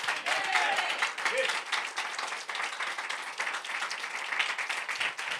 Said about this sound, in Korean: 우리 하나님께 박수를 한번 영광 드리겠습니다